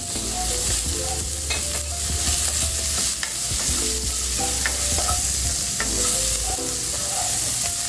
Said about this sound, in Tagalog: Next, lagay na natin yung ating onion. Ang gamit natin ay white onion.